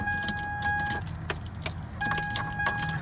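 Keys jangle and clink close up inside a lifted 2003 Toyota Tacoma SR5 4x4 V6 while someone tries to start it, with steady chime tones sounding on and off in the cab.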